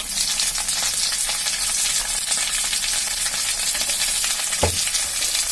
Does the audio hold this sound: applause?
no